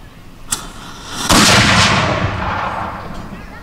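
A black powder cannon fires during a living-history demonstration at an encampment: a sharp crack from the fuse followed by a loud, close boom that rolls and reverberates for a couple of seconds.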